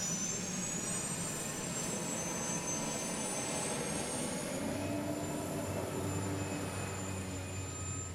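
Turbine engine of a U-21 unlimited hydroplane racing boat at the Bayfair races, a steady distant jet-like whine with a high tone and broad roar, unbroken and without voices.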